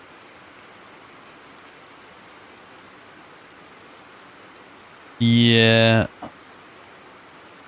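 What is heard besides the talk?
rain falling in video game Resident Evil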